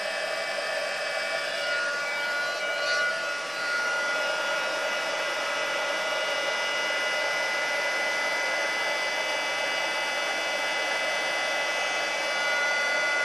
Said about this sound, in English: Make sure you heat your heat gun up beforehand.